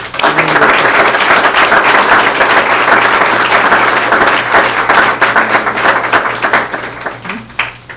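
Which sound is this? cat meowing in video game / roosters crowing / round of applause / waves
round of applause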